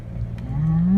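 Ranch cattle at feeding time give a single low moo that swells and rises in pitch toward the end, close and loud with no talk.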